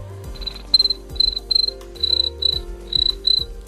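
A man imitates a cricket with his voice, making repeated bursts of high, rapid chirps in a steady rhythm, loud and close, alone without talk.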